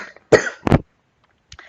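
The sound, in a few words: cough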